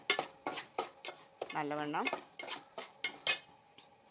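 Semolina (rava) being roasted in a pan for upma, with a spoon clattering and scraping against the metal in quick repeated strokes, close and clear, with a brief spoken word mixed in.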